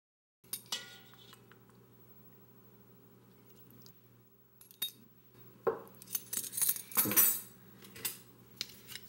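Raw broccoli being tossed with sauce in a bowl, with scattered clinks of a utensil against the dish and bursts of rustling and scraping that grow busier toward the end.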